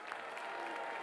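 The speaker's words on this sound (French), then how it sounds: "Merci de faire un tonnerre d'applaudissements pour Madame Valérie Pécresse." A crowd applauds at a political rally in Vendée for Valérie Pécresse, a faint, brief wash of distant clapping.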